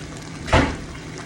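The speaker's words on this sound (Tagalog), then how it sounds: "Ipilit natin hanggang sa lumabas yung kanyang gata" Grated coconut is squeezed by hand to press out coconut milk for Bicol Express, giving a single short wet squelch and trickle over quiet background.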